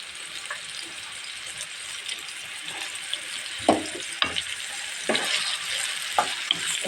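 Garlic paste sizzling in hot oil in a pan, a steady close frying hiss with occasional spoon scrapes and louder bursts of crackle toward the end, without speech.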